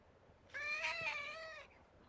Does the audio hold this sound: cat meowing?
yes